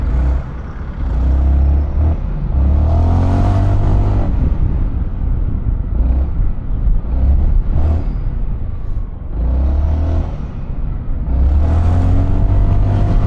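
Honda ADV 350 scooter accelerating on a road, its engine rising in repeated surges with a loud, close drone and rushing wind noise, passing through several gear-like swells.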